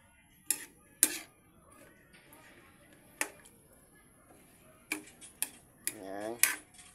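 Food being stirred in a large kawali, with a few sharp scrapes and clinks of the utensil against the pan spaced out across a quiet background, and a brief louder rattle near the end.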